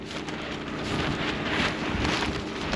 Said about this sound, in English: the winds are still just insane today